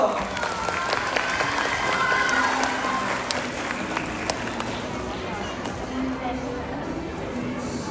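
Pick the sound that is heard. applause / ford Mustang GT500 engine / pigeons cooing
applause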